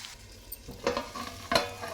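Egg and capsicum fry stirred in a pan, with soft spatula scrapes and two clear stirring bursts over a low sizzle, close by and with no talk.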